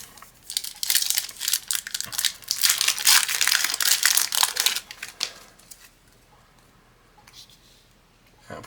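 A Magic: The Gathering booster pack wrapper is crinkled and torn open close up, giving several seconds of loud, dense foil rustling and crackling that thins into quieter handling near the end.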